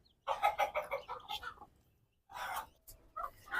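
A desi hen clucks close by in short bursts, one run of quick clucks, a pause, then another burst and a final few calls.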